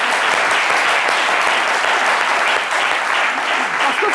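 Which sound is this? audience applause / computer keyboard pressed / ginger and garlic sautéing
audience applause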